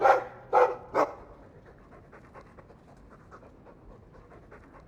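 Dog in the video game Dragon Age II giving three sharp barks up front, then panting steadily and softly in quick rhythmic breaths for the rest of the clip.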